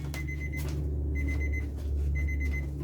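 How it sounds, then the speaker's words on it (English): A kitchen timer for sourdough beeps in a repeating pattern of short bursts over a steady low hum, moderately faint and alone in a home kitchen. "And that would be the timer for our sourdough."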